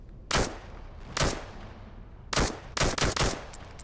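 Gunfire in the virtual reality shooter Into the Radius 2: short bursts of automatic fire, a single burst, another, then a rapid cluster of three or four bursts, sharp and close.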